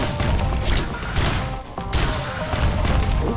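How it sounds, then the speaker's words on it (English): Explosions in the action video game Risk of Rain: loud, crunching blasts and crashes come in quick succession with a short dip midway, and no talk over them. "Exploding!"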